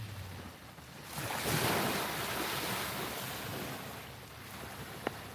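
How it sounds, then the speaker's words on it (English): Ocean waves wash in under a full moon, a broad rushing surf swell rising and easing with wind noise on the microphone. "Joyce is falling asleep to the sound of the ocean"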